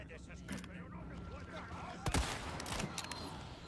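Gunfire in Resident Evil 4 Remake: one loud sharp shot stands out, with a few fainter cracks over game noise and someone talking.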